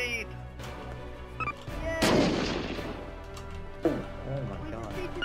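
A grenade explodes in a multiplayer video game, one loud boom with a rumbling tail, then another thump, and people talk excitedly over it.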